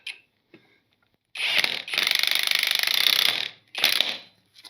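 Power driver on a sling towing setup driving a screw in, several short bursts of rapid ratcheting whir, with one long sustained run in the middle, close and fairly loud, no talk.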